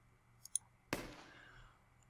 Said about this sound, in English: And there's a fucking gunshot.